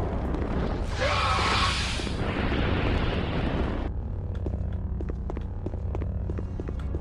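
A grenade explosion in the Star Wars game Jedi Knight II: Jedi Outcast: a loud, broad blast that rumbles for a couple of seconds and then settles into a low, steady hum with faint clicks.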